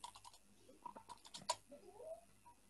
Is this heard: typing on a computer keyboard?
yes